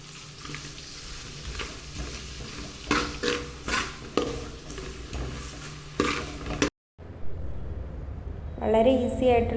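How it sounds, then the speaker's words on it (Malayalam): Chopped onions and salt sizzle and hiss as they sauté in a pan for Bansi rava upma, with close, steady frying and stirring scrapes. A brief drop to silence comes before the cooking resumes, and a voice sounds near the end. "അടുത്തതായി ഇതിലേക്ക് സവാള ചേർത്ത് കൊടുക്കാം. ഇനി ഇതൊന്ന് വഴറ്റിയെടുക്കാം."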